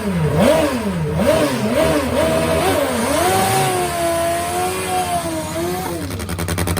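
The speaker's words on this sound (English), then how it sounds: "That is an inline 4-cylinder top fuel motorcycle running on nitromethane" An old school turbo Kawasaki inline four-cylinder top fuel drag motorcycle running on nitromethane revs loudly, its engine note swooping up and down in quick blips before settling into a steady rising howl.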